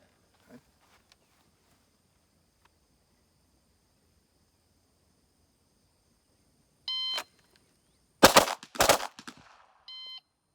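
Pistol shots fired during a cold-weather combat shooting drill, a pair of sharp, loud reports bursting out near the end after long quiet, with a few short electronic timer beeps before and after.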